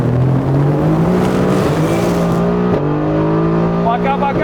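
A McLaren 720S sports car launches briefly with a touch of wheelspin, its loud engine note rising and shifting as it pulls away at a drag race in Dubai, with a voice over it.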